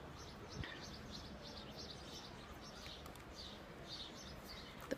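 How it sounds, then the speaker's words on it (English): Small birds chirp faintly in the distance, repeated short tweets over a quiet, steady background hiss with no talking. "The birds are chirping. That's a pleasant sound"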